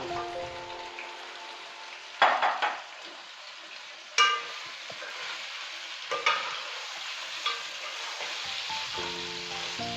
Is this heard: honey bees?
no